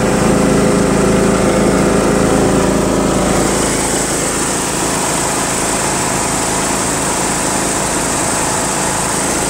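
A John Deere L100 lawn tractor with a Briggs engine runs at full throttle, a loud, steady, close-up engine drone with a high whine that holds without a break.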